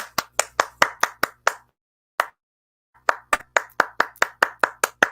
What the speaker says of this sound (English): I'm gonna start giving y'all hand claps